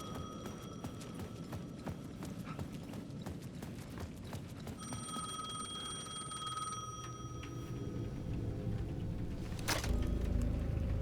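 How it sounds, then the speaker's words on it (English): A payphone on a plaza in the video game Alan Wake 2 gives a ringing electronic tone midway through, fairly quiet among ticking, tapping noises and a low rumbling background. "The payphone at the edge of the plaza was ringing again."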